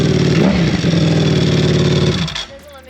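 A 2023 MV Agusta Brutale motorcycle with a Termignoni titanium exhaust and dry clutch revs hard and deep, then drops off near the end with a crackle, loud and close.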